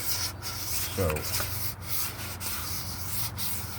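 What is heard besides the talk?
sanding car body filler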